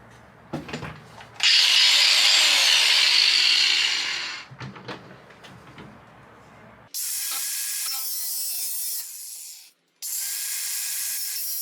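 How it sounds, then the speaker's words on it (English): A power cutting tool shears bolt heads off a Toyota Land Cruiser Troop Carrier table mount: loud, close sustained bursts of harsh high grinding, several seconds each, with brief ratcheting clicks and pauses between cuts and no speech. "let's go ahead and cut those bolt heads off"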